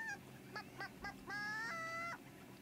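Chicks in the farming game Medieval Dynasty give a faint run of short chirping calls, followed by a longer, drawn-out call.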